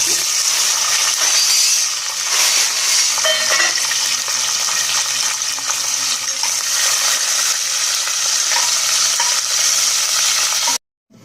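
Onions fry in hot oil with mustard seeds and cumin, making a loud, continuous sizzle with light stirring that stops abruptly at the end.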